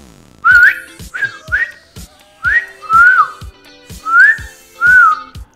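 A person whistles to call a dog: short notes repeated in a loose rhythm, rising and falling melodic chirps, loud and close, with brief gaps between each phrase.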